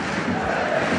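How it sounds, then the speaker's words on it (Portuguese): Flamengo football fans celebrate in the stadium during a Brazilian Série A match against Sport, a loud, dense crowd roar sustained without a break. "A gente vê a torcida do Flamengo lá comemorando, tá vibrando"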